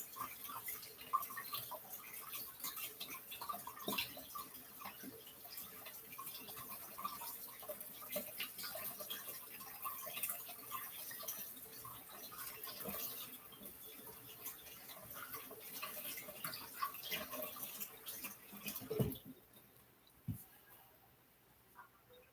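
Tap water runs over sticky fingers at a home kitchen sink as a steady, soft splashing stream for about nineteen seconds, then cuts off, leaving a quiet room with a faint clunk.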